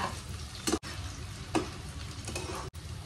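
Boiled eggs and potatoes frying lightly in oil, a soft steady sizzle with occasional clinks of stirring, fairly quiet and without speech.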